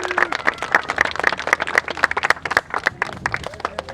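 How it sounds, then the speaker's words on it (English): Small audience at El Castillo de San Marcos clapping for a gun crew, a close burst of individual, distinct claps that thins out toward the end, with no talk. "please join me in giving them a round of applause"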